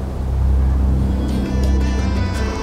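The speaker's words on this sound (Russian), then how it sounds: "Автобус из аэропорта приезжает прямо в центр, на Diplomatic Street." An airport bus drives through central Doha toward Diplomatic Street, its engine a steady, loud low rumble with faint higher traffic noise mixed in and no voices.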